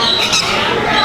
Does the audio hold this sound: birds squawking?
yes